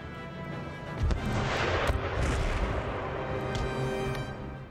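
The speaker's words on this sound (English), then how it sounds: "Howitzers provide support to these units on the left." Howitzer and artillery fire on a battlefield in Empire: Total War: a dense, continuous rumble of cannon blasts with a sharper volley around the middle, heard alone without talk.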